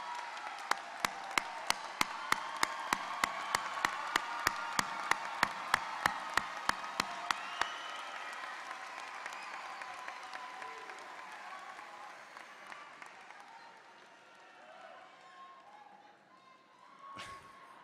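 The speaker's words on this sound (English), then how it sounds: "Will all our honors students please rise and receive our applause?" A graduation crowd applauds honors students at a San Jose State University social sciences commencement. Steady, rhythmic claps ring out close by over a broad wash of clapping, then gradually thin and fade, ending with one sharp knock.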